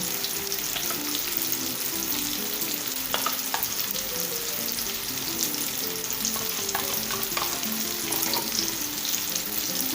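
Eggplant with sour cream, spices, onion and garlic frying in a pan, a steady sizzle with occasional scrapes of stirring, close and continuous.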